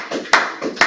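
A class claps hands, giving a couple of short, sharp claps close by in quick succession.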